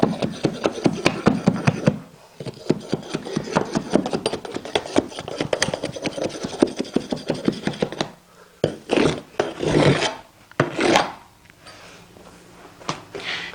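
Carpet nap is raked under a baseboard during carpet installation, giving quick rhythmic scraping strokes, a dense run of them at first, then a few slower separate rasps, close and alone.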